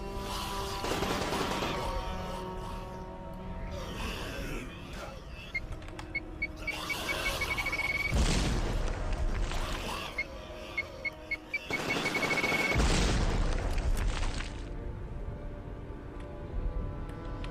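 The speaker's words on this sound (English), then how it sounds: "I am shooting the pistol, but I'm getting the assault rifle model because I switched too quickly" Gunfire in the video game Unearthed: pistol shots that come out with the assault rifle model, heard as several short bursts of sharp cracks and clicks over a busy background of game music and effects.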